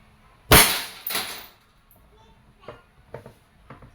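A Crosman SNR 357 airgun revolver fires steel BBs single action, two sharp close cracks in quick succession followed by softer clicks and handling noises.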